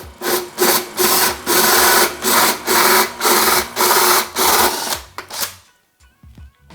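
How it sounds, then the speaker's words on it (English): A power drill bores a hole through a flat section of plastic pipe during concealed toilet plumbing work, with loud, close whirring bursts pulsing rhythmically for about five seconds before stopping abruptly. "you've got your hole drilled"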